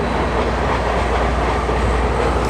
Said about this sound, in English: And there is the train